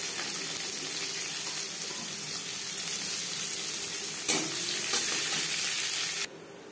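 Chopped onion fries steadily in hot oil after bay leaf and five-spice tempering, a continuous close hiss with a brief clatter near the end before the sizzle drops off abruptly.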